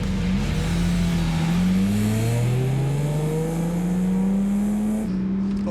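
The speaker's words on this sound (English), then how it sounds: "He's going to test drive the hottest supercharged Lotus on the market." A supercharged Lotus sports car accelerates hard on a test drive, its engine note climbing steadily through a long pull and then briefly dropping and rising again on a shift, loud and close throughout.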